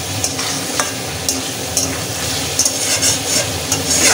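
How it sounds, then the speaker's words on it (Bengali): Fried eggs being stirred and sautéed in spice paste for a Bengali egg curry with kankarol, with a steady close sizzle and repeated scraping clinks of the spoon against the pan throughout. "ভেজে রেখেছিলাম ডিমগুলোকে ভালো করে কষিয়ে নেব।"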